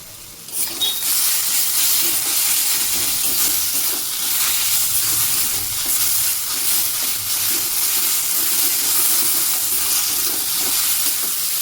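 Garlic fries in a pan of oil left over from frying onions, giving off a loud, steady hiss and crackle close by for several seconds with no speech.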